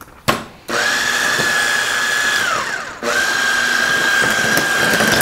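An electric mixer runs at low speed beating a cheese custard mixture, a steady whirring motor hum that stops briefly and restarts, close and continuous.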